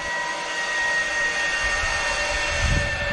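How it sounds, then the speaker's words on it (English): Zipline riders whizzing down the cable at Toro Verde, a steady loud rushing whine of trolley on wire that swells slightly as they approach, with faint wind. "That's the sound of them coming down the cable."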